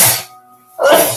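A single sharp sneeze bursts out, a quiet gap follows, and then a second noisy exhale comes, all close and brief.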